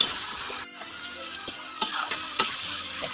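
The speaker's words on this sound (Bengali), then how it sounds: "এবার আরও কিছুক্ষণ কষিয়ে নেব।" Bengali dried fish curry with melted tomatoes and chilli-garlic paste sizzles steadily in oil while stir-fried, with occasional sharp clicks of the spatula against the pan.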